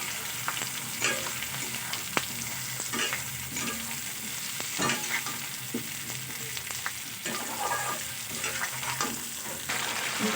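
Pumpkin and potato fry with spices in hot oil, giving a steady, soft sizzle broken by the scrape and clatter of a spoon stirring through the pan.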